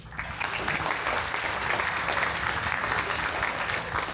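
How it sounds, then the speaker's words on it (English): Passengers gathered aboard the Queen Mary 2 ocean liner give a round of applause, a continuous, even wash of clapping heard at moderate distance, with no voice cutting through it. "A round of applause."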